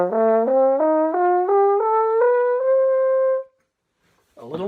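With the hand cupped under the bell, a French horn climbs through a steady ladder of held notes with a bright, somewhat trumpet-like tone, heard alone; a brief voice follows after a pause.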